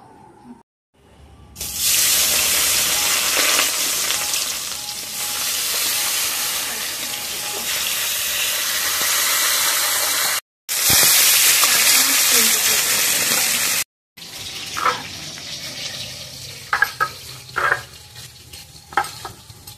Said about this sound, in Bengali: কড়াইটাও অলরেডি গরম হয়ে গেছে, আমি সরষের তেল দিয়ে ভালোভাবে ভেজে নেব।